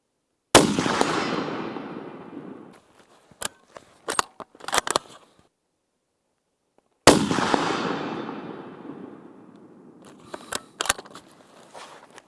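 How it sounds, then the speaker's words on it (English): A Ruger American Gen II Scout rifle fires two loud, sharp shots several seconds apart, each followed by a long echoing decay outdoors, with clicks and rattles of bolt cycling between them. "Let's put a few rounds downrange and see how these iron sights do"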